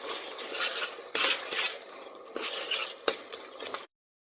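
Garlic and meat fry in a pan while a utensil stirs and scrapes against the metal in bursts, loud and close, with a soft sizzle running underneath and no talk.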